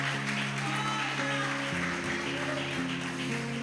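A church congregation applauds in worship, steady dense clapping under sustained keyboard or organ chords that shift pitch, with crowd noise filling the room.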